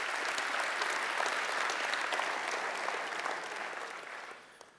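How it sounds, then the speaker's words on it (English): Conference audience applauding speakers at an opening session, a dense, steady wash of clapping throughout that tapers off toward the end. "A round of applause for our amazing speakers today."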